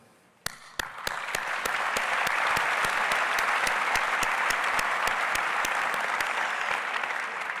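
Applause from a crowd at a dental school commencement ceremony swells quickly after a few opening claps, then holds as a loud sustained roar with sharp individual claps punctuating it throughout.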